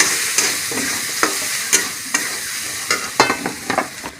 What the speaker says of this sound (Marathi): जिरा पावडर, गरम मसाला, हळद, धना पावडर आणि याला जरा हलवून घेऊ।